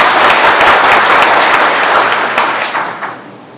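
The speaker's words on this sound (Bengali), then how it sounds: "আসিফ নজরুলের জন্য আমরা একটা জোরে হাততালি দিয়ে বললাম।" Loud applause from an audience at an inauguration event, dense steady clapping that holds for about three seconds and then begins to fade.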